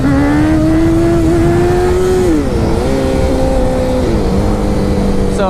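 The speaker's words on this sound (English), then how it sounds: "So, there's a power wheelie." A motorcycle engine holds a steady high rev through a power wheelie, loud and close, with the pitch dipping twice as the throttle eases, continuous with no talk.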